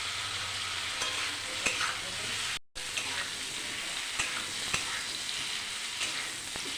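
New potatoes fry in a pan for a rohu fish curry, giving a loud, steady, close sizzle with light stirring clicks and one brief dropout partway through; no talking.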